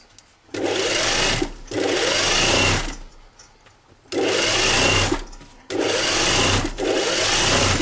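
A sewing machine topstitches along the overlocked seam of a jacket in several loud, steady bursts, stopping and restarting between runs.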